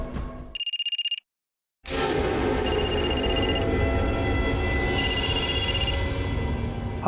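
An electronic telephone bell rings in repeated bursts, loud and close, broken by a short silence, over a dense background of music and ambience in a Crime Patrol television drama scene.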